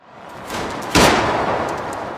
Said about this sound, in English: unleashing a volley of arrows and gunfire, the air filled with the sounds of chaos and destruction